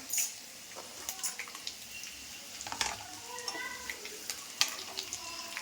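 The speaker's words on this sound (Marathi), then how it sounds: "आता ह्याच्यात मी घालणार आहे फुटाणे." Roasted chickpeas go into a poha mixture frying in a pan, with soft sizzling and intermittent scraping taps of a spoon stirring, quiet and close.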